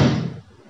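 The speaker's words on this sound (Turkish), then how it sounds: "Kapı zor kapanıyor. O yüzden mecbur çarpacak öyle." A door that shuts only with effort slams hard once indoors at home, a sharp loud impact that quickly fades into a short dull ringing tail.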